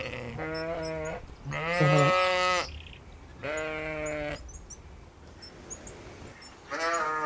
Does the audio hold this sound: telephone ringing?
no